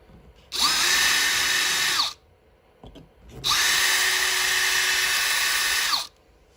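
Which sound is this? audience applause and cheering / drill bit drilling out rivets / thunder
drill bit drilling out rivets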